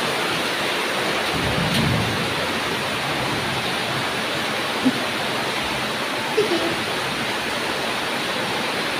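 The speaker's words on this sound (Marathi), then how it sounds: "किती पाऊस आलाय सोनू, हा पाऊस बघ." Sudden heavy rain in a Konkan village: a loud, unbroken hiss of rain pouring down, with a low rumble and a few brief knocks nearby.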